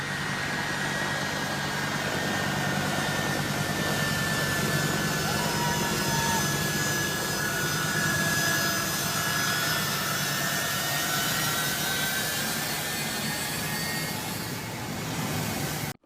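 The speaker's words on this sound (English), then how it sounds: "Here you can see the last U.S. military plane taking off from Hamid Karzai International Airport in Kabul, Afghanistan" The last US military plane taking off from Hamid Karzai International Airport in Kabul, Afghanistan: a loud, steady jet engine roar that holds throughout and fades slightly at the end.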